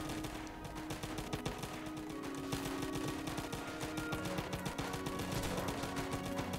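A new gun fires in a Roblox zombie game, its fast repeated shots rattling in a steady automatic rhythm over busy game sound, fairly quiet and unbroken.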